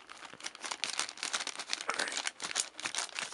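Plastic and cardboard packaging around a trainer comb butterfly knife crinkles and crackles in quick bursts as it is cut open, close and fairly faint, with no voices.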